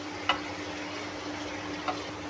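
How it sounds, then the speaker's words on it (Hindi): Chicken pieces frying in a pan for a chicken karahi, a soft steady sizzle with a faint background hum and two brief louder clinks or stirs. "तो इसको मैं अभी जब तक फ्राई करती हूँ, इसका कलर चेंज होगा"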